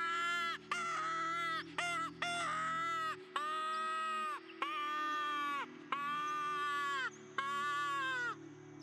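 Magpies, hooded crows, carrion crows and ravens answer a distressed crow with a run of loud, harsh, drawn-out caws in repeated bursts, close and continuous with only short gaps.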